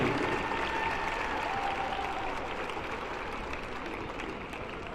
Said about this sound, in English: How about a nice round of applause once again for Carson Anderson and Carter Schreiber.